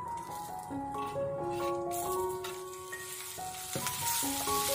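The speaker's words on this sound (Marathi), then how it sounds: "कांदा, खोबरं, आलं, लसूण आणि टोमॅटो व्यवस्थित असे परतून बघा" Onion, coconut, ginger, garlic and tomato sauté in a pan with a soft continuous sizzle under bright tonal tones, punctuated by a few scraping stirs, fairly quiet and close with no speech.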